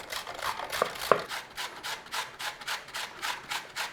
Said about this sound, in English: Carrot we're going to grate straight in to that cabbage.